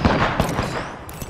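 Rapid gunfire erupts in the Apex Legends video game, likely from a Spitfire light machine gun: a close, loud stream of overlapping shots crackling in a quick burst.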